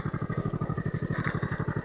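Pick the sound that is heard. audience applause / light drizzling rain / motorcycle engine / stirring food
motorcycle engine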